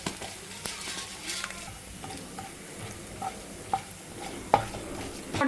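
Mustard seeds and urad dal crackle in hot oil for a tempering, a close, continuous sizzle with scattered sharp pops and light clinks of a spoon against the pan. No voices.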